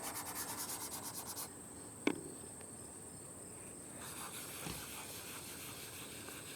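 Colour being rubbed onto a surface by hand, a soft continuous scratchy friction with a rhythmic pulsing start, a brief knock partway through, and a faint high steady whine beneath; no talking.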